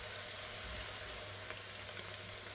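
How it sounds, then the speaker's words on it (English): Plantain pieces frying in heated oil for a Sri Lankan eggplant and plantain curry, a steady close crackling sizzle running throughout with no talk. "we're going to let this fry now until the plantains become nice and crispy"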